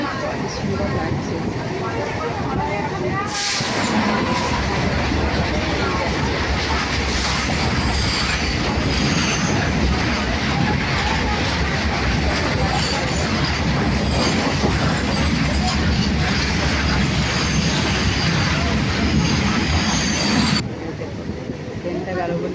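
A train runs along railway tracks past ponds, a loud, close and continuous rumble with clattering wheels and some squealing for about twenty seconds before cutting off abruptly; a voice can be made out under the noise.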